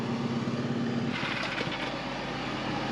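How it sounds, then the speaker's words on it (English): A small sprayer motor runs continuously while a farm sprayer tank fills for spraying wheat, a steady close engine drone with a rushing, hissing wash of water rising partway through. "Get close to full, it helps to slow the motor down."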